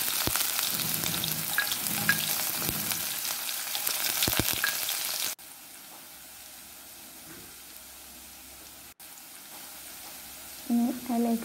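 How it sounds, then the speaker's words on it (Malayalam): Chopped onion hits hot coconut oil for a Kerala egg curry, with a loud, dense sizzle for about five seconds that then drops to a quieter, steady crackle. "ചൂടായിട്ടുള്ള വെളിച്ചെണ്ണയിലേക്ക് നേരത്തെ അരിഞ്ഞു വെച്ചിട്ടുള്ള ഉള്ളി ചേർത്ത്"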